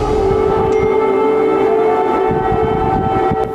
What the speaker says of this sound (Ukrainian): Ніч завершується звуками сирен